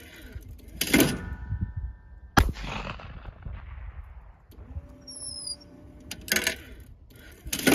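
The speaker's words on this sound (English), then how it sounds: "Just a pure pleasure to shoot this shotgun." A CZ Teal 28 gauge shotgun fires three sharp, loud reports spaced a few seconds apart, each blast followed by a brief outdoor decay, with quieter clatter and handling noise in between.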